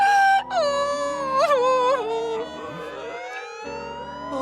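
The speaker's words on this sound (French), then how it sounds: "Oh non, les sirènes!" Wailing emergency sirens rise and fall in clear harmonic sweeps, loud and close, overlapping one another for a few seconds before one cuts out, with a faint voice briefly among them.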